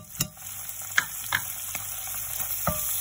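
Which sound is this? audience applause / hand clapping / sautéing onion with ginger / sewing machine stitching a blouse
sautéing onion with ginger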